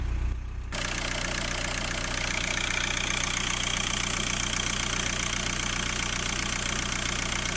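A Seat Alhambra 1.9 TDI diesel engine idles steadily after injector cleaning, a close, continuous low diesel rumble with a faint knocking beat and no voices.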